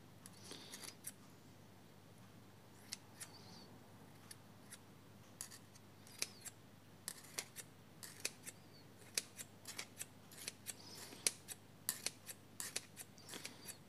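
Scissors make repeated sharp snips as they trim a terrarium plant, the faint, close clicks coming in an irregular rhythm over low background hiss, without speech.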